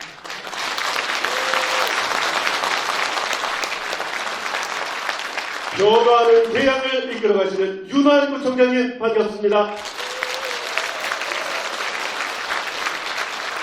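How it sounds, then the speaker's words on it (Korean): An audience at a district community forum in Incheon claps warmly, strong applause at the start and again at the end, with an amplified announcer speaking over a short pause in the middle. "소개해드릴 때마다 뜨거운 박수로 맞아주시면 대단히 감사하겠습니다."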